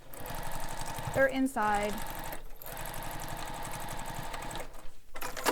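A sewing machine stitches a messenger bag in steady, close bursts that pause and resume, with a person talking over it.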